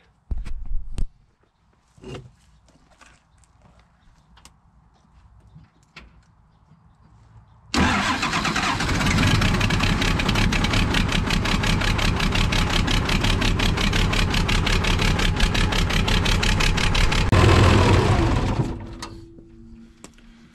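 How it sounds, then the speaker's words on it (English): A quiet stretch with a few knocks, then a Case loader's heavy diesel engine starts and runs loudly and steadily for about ten seconds before dropping to a lower idle. "I'm just going to let the machine run for a few minutes"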